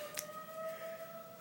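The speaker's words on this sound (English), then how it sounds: "Disregard that siren in the background." A town emergency siren under test sounds as a faint, distant steady wail holding a sustained pitch for about a second and a half, with a brief faint click at the start.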